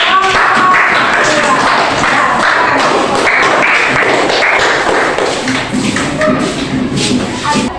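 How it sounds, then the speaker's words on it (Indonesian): Students clapping for a group that just read aloud at an Islamic school event, a loud, close, busy patter of hands filling the whole stretch with some shuffling, no talk. "beri tepuk tangan untuk"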